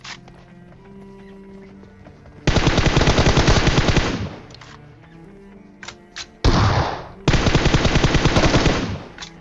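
M4 rifle fire in the mobile game PUBG Mobile: two long, loud, rapid automatic bursts with a short burst between, separated by quieter in-game ambience.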